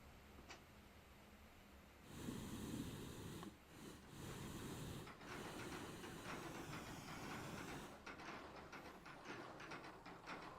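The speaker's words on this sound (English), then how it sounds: "So the train is working." A loud, continuous hiss and rumble of a steam train running in the game Astroneer, with shifting chuffing noise and brief breaks in the roar.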